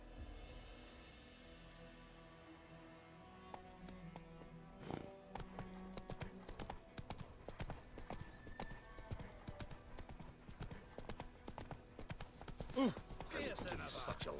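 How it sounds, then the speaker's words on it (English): Horse hooves clip-clop in a steady walking rhythm in The Witcher 3: Wild Hunt, the horse being Roach, with faint background music and game ambience; footfalls grow louder and busier toward the end, and a voice speaks briefly. "Whoa there, Roach."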